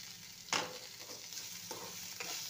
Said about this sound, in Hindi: चम्मच चलाते हुए